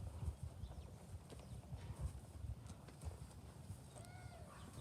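A reining horse turns around, its hooves giving quick irregular clip-clops on the ground, faint and somewhat distant, over a light steady background hiss.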